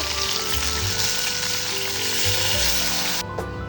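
Onion paste, tomato, dried chilli and turmeric sizzle and fry steadily in a pan, a dense close crackle with faint stirring scrapes, cutting off abruptly near the end.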